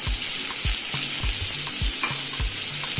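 Onion, garlic, green chilli and ginger hit hot oil with browned cumin for shahi paneer, giving a loud continuous sizzle broken by rhythmic spoon scrapes and stirring thumps close up, with no voices.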